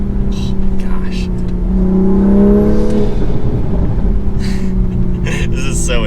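Deep, loud revving from a Toyota Supra MK5 fitted with a full exhaust, the engine note swelling in a long pull and settling back, with brief voices over it.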